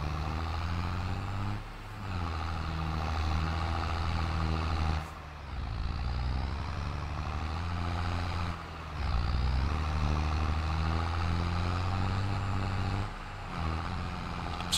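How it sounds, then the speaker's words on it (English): A small tractor engine in a farming video game drones loudly and steadily, a harmonic rumble that dips briefly a few times as the load changes. "So we're struggling a little bit with this little tractor we got here."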